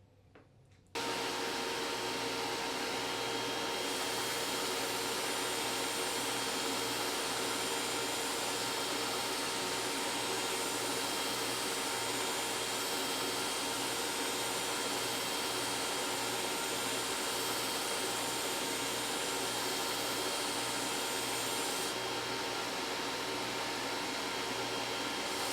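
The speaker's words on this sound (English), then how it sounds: "when we're using a felt belt like this on our belt sander, we just want to make sure we keep everything moving" Belt sander running a felt belt while a golf club hosel is turned down against it: a loud, steady, close whirring roar with a constant hum that holds without a break once the motor starts.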